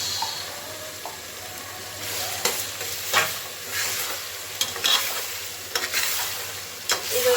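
Ginger garlic paste fries with tomatoes for chicken biryani while being stirred, a loud close sizzle broken by repeated scrapes and clanks of the spoon against the pan, with no talk.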